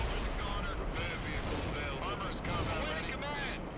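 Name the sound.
artillery fire in video game World in Conflict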